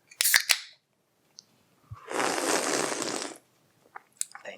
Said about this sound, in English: Crack the beer first.